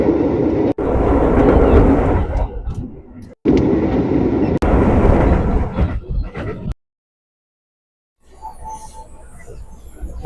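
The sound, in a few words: train departing from a station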